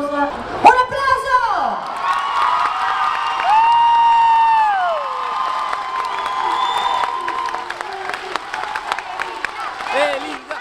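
An audience applauds and cheers for a female singer at a show, scattered clapping and whoops building under a loud voice of a presenter and sustained tones.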